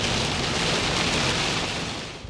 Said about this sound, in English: it is absolutely monsoon raining right now